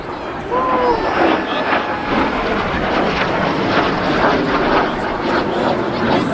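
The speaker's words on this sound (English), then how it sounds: "the L39 Albatros" An L-39 Albatros jet passes at the Blackpool Airshow, a sustained roaring whine that stays loud and steady, with a crowd and commentator voice audible underneath.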